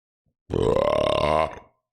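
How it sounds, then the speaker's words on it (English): A single long, loud burp lasting about a second, deep and rumbling with a rising tone, then silence. "that was a bushy burp"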